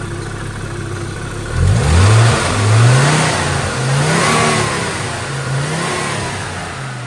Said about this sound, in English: Apart from the noisy power steering pump.